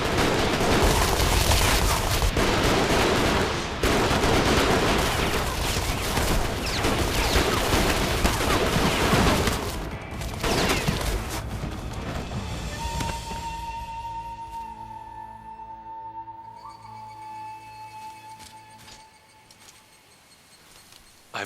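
Dense, sustained artillery gunfire in the Sengoku Basara: Samurai Heroes action game, a loud continuous barrage of overlapping blasts that thins out after about ten seconds into scattered shots and a ringing tonal effect.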